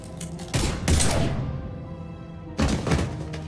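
Gunfire in the video game Mass Effect 3: a few heavy, booming bursts, loud and close, separated by a fading rumble, with no talking.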